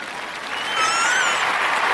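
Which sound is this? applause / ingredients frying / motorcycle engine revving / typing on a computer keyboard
applause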